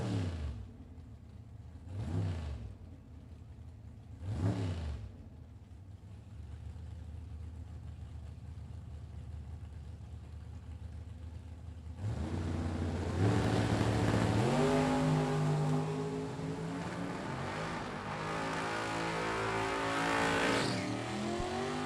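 Drag race between a Daytona and an Oldsmobile 442: two brief engine blips early, then a loud sustained roar of cars launching and accelerating down the strip with rising revs, no talk.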